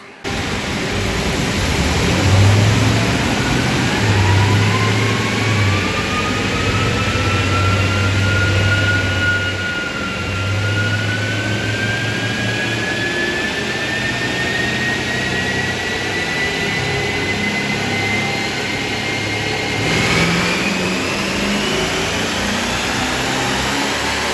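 A car engine with open exhaust cutouts revs through a long pull, a loud, steady roaring drone whose pitch climbs slowly and evenly, with a brief dip partway through, heard up close and alone.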